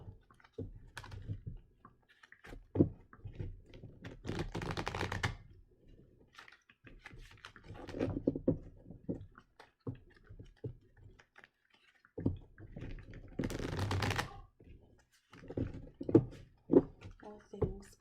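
Tarot cards being shuffled in several rounds of papery clicking and riffling, close by, with pauses between bursts.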